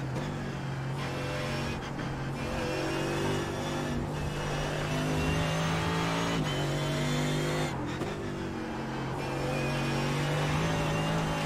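A Mercedes GT3 race car engine at Monza in iRacing: loud, continuous engine roar up close, rising through the revs with several sharp gear-change breaks and brief dips, with no speech.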